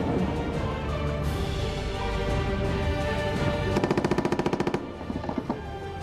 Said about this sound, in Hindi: जो हथियार हम आपको दिखा रहे हैं ये लाइट मशीन गन है